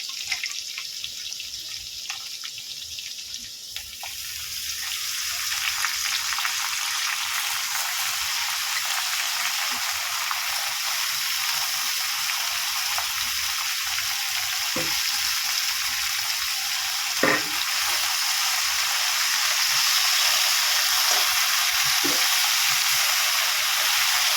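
Dry red chillies frying in hot oil for a vegetarian Bengali pumpkin-leaf curry, a steady loud hiss and sizzle that builds after the first few seconds, with scattered crackles and pops.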